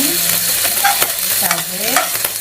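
Shallots and garlic frying in reused oil, a close, loud sizzle with bubbling crackles and a stirring scrape throughout, no voices.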